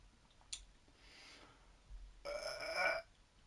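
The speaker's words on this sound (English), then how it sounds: "That was my first burps are going to be horrendous." A burp after eating two chilies: a brief faint click early on, then a rough belch swelling for under a second, close and alone with no talking.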